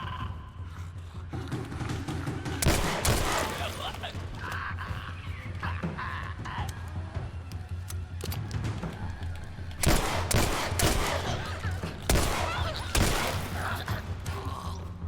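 Gunfire in The Last of Us Left Behind: several sharp shots fire in separate bursts over a constant game background, some louder and some fainter, with no talking.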